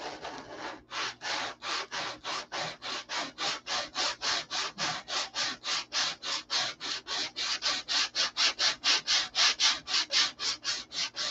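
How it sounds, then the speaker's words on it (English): Sandpaper worked back and forth on the clear plastic canopy of a P-47 model airplane, a close, even run of about thirty rhythmic rasping strokes that grow slightly louder toward the end. "I'm sanding into the plastic is what I'm doing now."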